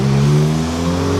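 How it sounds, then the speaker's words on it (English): A motorcycle engine drones steadily close by outside, a continuous low rumbling hum with no speech over it. "I gotta wait till this motorcycle get out the way."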